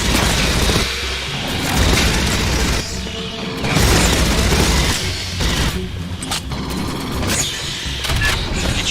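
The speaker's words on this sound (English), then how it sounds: "Did you hear explosions just now?" Repeated heavy booms and blasts from the video game Aliens: Fireteam Elite burst out in quick succession, loud and close, mixed with mechanical clatter and crackling debris.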